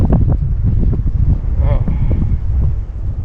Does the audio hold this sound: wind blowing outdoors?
yes